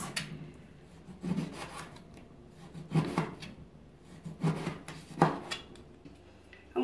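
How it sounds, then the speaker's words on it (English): A sharp knife slicing thin pieces of pork belly on a board, rind side down, heard as a few separate rasping strokes spaced about a second apart, close and fairly quiet, with no voices. "So first here I've got some pork belly. I'm going to cut some really thin slices."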